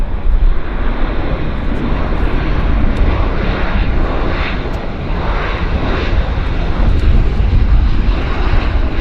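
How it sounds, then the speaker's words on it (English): A plane at Vancouver airport roars loudly and continuously, a broad engine rumble with wind buffeting, and no talk over it. "Another aircraft"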